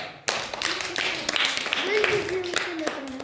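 A group claps during a square-making puzzle game, giving a scatter of sharp hand claps under a voice that talks loudly and excitedly throughout.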